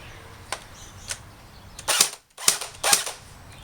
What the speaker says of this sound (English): It's not the cleanest sounding gearbox.